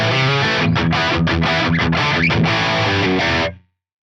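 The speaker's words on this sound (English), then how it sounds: "I could play some rock rhythm guitar with." An electric guitar plays chunky rock rhythm chords through an Axe-Fx III preset with a driven, distorted tone, strummed steadily and loud before cutting off abruptly into silence.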